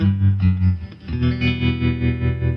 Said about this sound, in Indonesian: ini adalah suara gitar.